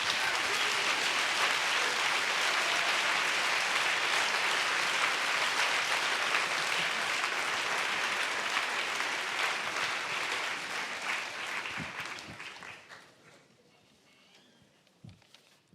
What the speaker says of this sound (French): vous pouvez l'applaudir aussi, au moins aussi fort que Christiane Taubira